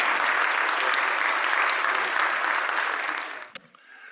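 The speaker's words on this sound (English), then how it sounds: "Can we give a round of applause to our engaging panelists?" Sustained audience applause for a panel at a global health session, dense and steady for over three seconds before tapering off with a few final claps.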